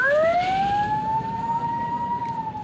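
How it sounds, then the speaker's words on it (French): An ambulance siren wails steadily as it evacuates injured pilgrims in the heat, a loud rising-and-falling electronic tone sustained over a noisy street background. "Les ambulances évacuent des blessés."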